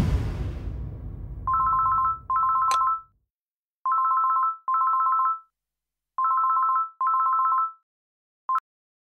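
A new mobile phone rings with a bright electronic ringtone, short trilling beeps repeating in evenly spaced pairs with silent gaps, clear and alone after a brief rumble of background noise at the start.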